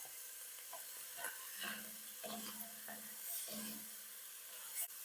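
Bacon and rutabaga sizzle and fry in a Dutch oven over high heat, a steady close hiss with faint scraping stirs recurring every second or so and no talk.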